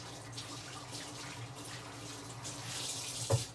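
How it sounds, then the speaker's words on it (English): Tap water runs steadily into a kitchen sink as hands are washed while a roast chicken dish is being prepared, a soft continuous hiss with a brief louder splash near the end. "let me clean my hands"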